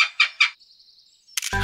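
A cartoon Oriental Pied Hornbill calls three times in quick, bright bursts, followed by a thin sustained whistle and then a loud, dense burst of sound at the end.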